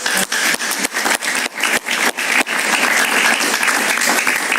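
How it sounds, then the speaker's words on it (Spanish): A television talk show studio audience bursts into loud, dense applause, sharp clap transients piling up over a few seconds before settling into a sustained roar of clapping. "un aplauso para María"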